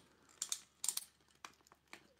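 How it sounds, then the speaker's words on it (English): A rubber suit on a Hot Toys Venompool collectible figure gives off faint, quick clicking and crinkling sounds in small clustered bursts, close up and quiet, with no talking. "You guys can hear the clicking."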